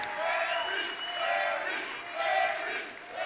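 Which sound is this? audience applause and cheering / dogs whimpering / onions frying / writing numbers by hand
audience applause and cheering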